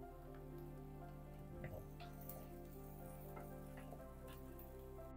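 Chopped onions and green chilies fry in a pan, giving a faint, steady sizzle with soft crackles and pops throughout.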